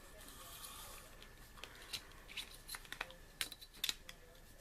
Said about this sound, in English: I'm going to go ahead and cut this part off